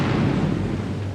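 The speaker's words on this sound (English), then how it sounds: "At 5 o'clock, the explosives were detonated." Explosives detonated for a silo demolition produce a deep, sustained rumbling roar, heavy and low, filling the short stretch without any voices.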